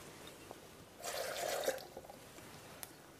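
Water poured into a blender jar of raw Alfredo sauce makes a brief, moderately loud liquid splash lasting about a second, alone with no talk.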